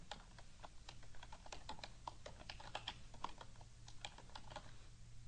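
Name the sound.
typing code on a computer keyboard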